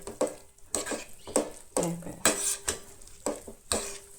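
A spoon repeatedly stirs and mashes pav bhaji vegetables in a pan, giving about eight sharp scraping and squishing strokes in a steady rhythm, close and moderately loud, with a faint sizzle beneath.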